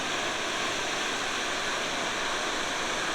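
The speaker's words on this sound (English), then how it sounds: "we've been following this same body of water" Swollen mountain stream near Gatlinburg in the Great Smoky Mountains, running high after Hurricane Ida, gives a steady, loud, broadband rush of churning water with no voices.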